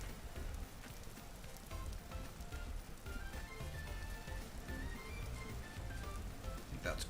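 Rain in the Vintage Story video game falls steadily as a soft, even patter and hiss, with faint scattered tonal game sounds over it.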